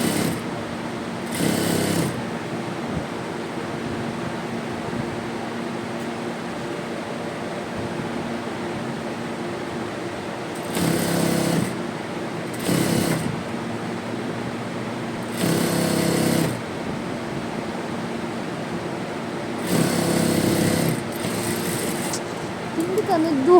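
Sewing machine stitching the piping on a star-neck blouse with back buttons, running in several short bursts of a second or two each between quieter stretches of steady background hum.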